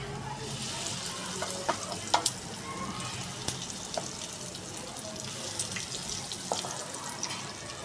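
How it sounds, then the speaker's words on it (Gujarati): Rava handvo batter goes into a hot pan with a soft, fairly faint sizzle and a few light taps and scrapes over a steady low hiss, no talk. "હવે આપણે આ જે બેટર બનાવ્યું છે ને એ આપણે હવે નાખી દઈએ"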